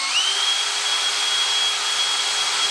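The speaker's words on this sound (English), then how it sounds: "So I'm going to drill a 5/16 hole in it." A power drill bores a 5/16-inch hole through 1/8-inch-thick masonite, giving a steady, close motor whine that rises briefly at the start and then holds level, with no talking.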